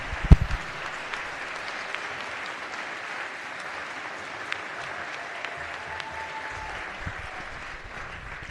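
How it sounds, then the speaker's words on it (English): Quiet, sustained applause fills a legislative chamber during a House floor session, honoring a university choir, a soft continuous patter of many hands sounding somewhat distant, with one sharp sound near the start. "join me in just giving a round of applause and a thanks to the Morgan State Choir"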